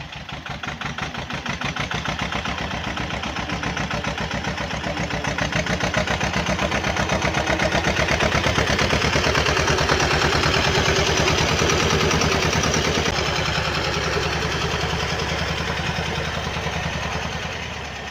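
Tractor pulling a VINMET plough on its first ploughing pass: a loud, continuous engine drone with a fast, rhythmic pulse that swells and holds steady throughout, with no voices.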